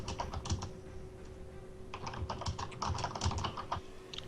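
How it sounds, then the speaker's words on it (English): Someone types on a computer keyboard close to an open microphone, producing quick irregular bursts of clicking keystrokes that come in clusters with short pauses over a low background hum. "If you're typing, by the way, mute your microphone until you're talking because it's a bit loud."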